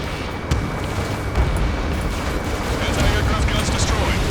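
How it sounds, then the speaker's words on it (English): Anti-aircraft guns are destroyed in a flight-combat mission in Ace Combat 7, heard as a continuous roar of explosions and artillery-like booms with a few sharper cracks. The sound is loud and sustained, with only faint background radio chatter. "Anti-aircraft guns destroyed."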